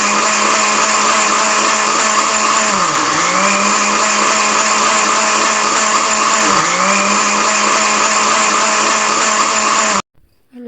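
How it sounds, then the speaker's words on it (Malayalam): A kitchen mixer grinder whirs loud and steady, blending the batter ingredients for a rava evening snack, with two brief dips in pitch as the load shifts before it stops abruptly near the end. "ഇനി ഇതെല്ലാം നമുക്ക് മിക്സ് ചെയ്തെടുക്കാം"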